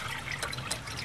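Coolant fluid trickling and draining from the return line at the top of a VW water pump during a grease car conversion, a brief, close, steady liquid gurgle with no voices.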